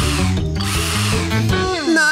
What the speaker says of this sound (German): Schraubendreher!